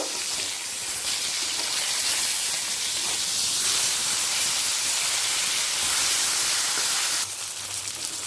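Silver carp pieces sizzle in hot oil in a pan, a continuous loud hissing crackle with a brief dip and change near the end, no voices over it.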